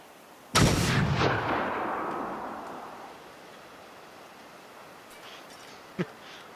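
A single heavy gunshot booms in Generation Zero, with a long echoing tail that rolls away over a few seconds, followed later by a lone sharper crack, no talk over it.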